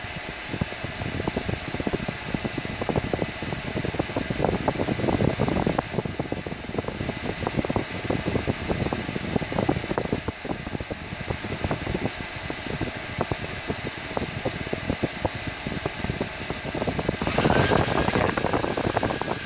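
A Vidal Sassoon 1875 hair dryer converted into a heat gun runs with a steady, close whooshing fan and airflow roar, holding an even level throughout with a slight tonal shift near the end.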